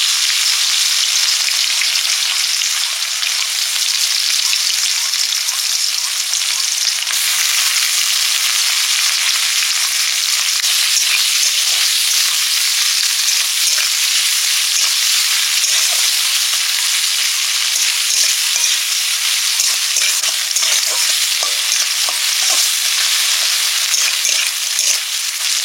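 Chopped onion, with chilli, sizzles and fries steadily in a pan in a Bengali village kitchen, a loud, dense crackle that holds constant throughout with no voices.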